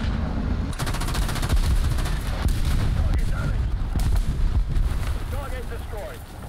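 Continuous heavy booms and rumbling blasts from an artillery barrage in War Thunder roll on without a break, loud and close, with faint voices now and then underneath.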